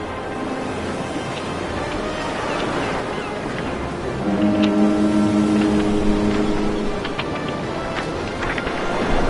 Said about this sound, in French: le paquebot qui était censé me conduire à Shanghai